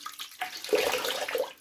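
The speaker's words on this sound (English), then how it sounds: "Right, I'm going to wash that off." Running water splashes as shaving soap is washed off a face after a straight razor shave, a short soft close splashing burst with no voices.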